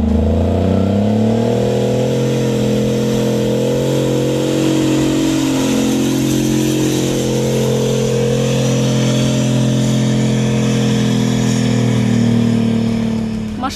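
Diesel engine of a new-generation Ukrainian armored personnel carrier (BTR) revving loudly and close, a sustained heavy drone with rising and falling pitch that holds for around fourteen seconds before easing slightly at the end.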